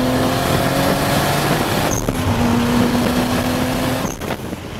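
A Toyota Supra MKIV engine runs loud and close with a steady droning tone, settling slightly toward the end, no talking.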